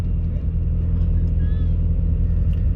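Turbocharged Mazda Miata making about 200 wheel horsepower, heard from inside as a steady low engine drone with a faint rising whistle from the turbo, continuous and fairly loud.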